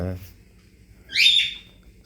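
Small birds in a forest give one bright, whistling chirp that rises and falls, close and fairly loud. It follows a brief moment of speech and has no other sound around it.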